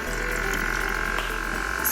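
A solar water pump pushing river water through a hose for a garden drip system, a steady close rushing and gurgling flow with a low mechanical hum underneath, continuous throughout.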